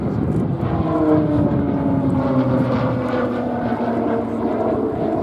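A Tucano turboprop trainer performing a flying display at the Duxford airshow in the UK, its loud propeller drone holding steady with slowly shifting pitch as it passes, strong and continuous throughout with no voices.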